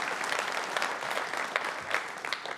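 Audience applause at a UK political speech, a dense, steady round of clapping from a crowd that stays at an even level throughout, fairly close and loud.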